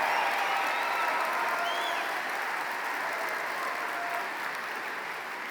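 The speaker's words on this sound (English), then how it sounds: "A thunderous round of applause for these outstanding graduates." Sustained audience applause for graduates at a 2023 high school commencement ceremony, a steady dense wash of clapping that fades only slightly over several seconds.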